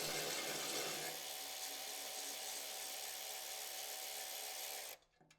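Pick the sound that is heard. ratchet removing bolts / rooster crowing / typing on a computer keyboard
ratchet removing bolts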